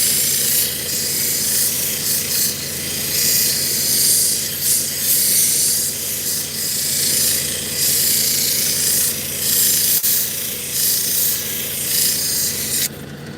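Fire obsidian is polished with 1200 grit to remove small scratches, producing a steady wet rasping hiss that pulses slightly as the stone is worked, close and fairly loud, with no talk.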